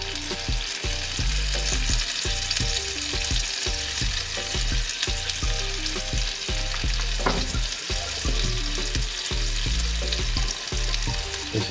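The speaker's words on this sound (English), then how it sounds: "this is sizzling" Kob fish fries in a hot pan with a loud, continuous sizzle and crackle, steady and close throughout.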